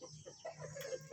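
A young red junglefowl kept as a decoy calls with soft, faint clucking and crowing notes, a few short calls spread over a second with a low hum underneath.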